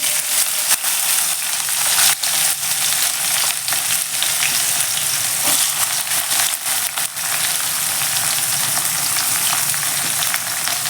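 Chopped onion frying steadily in a hot pan for a mushroom gravy, a dense continuous sizzle with occasional stirring clinks, close and fairly loud with no talking.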